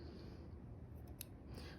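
Scissors snipping through an ordinary thread folded several times, a faint quick cut over low background hiss, with a couple of brief crisp snips near the end.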